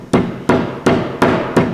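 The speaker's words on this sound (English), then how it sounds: "hammer it in." Rubber T-moulding being hammered into the edge channel of an arcade machine cabinet: five sharp, evenly spaced knocks about a third of a second apart, close and loud with nothing else heard.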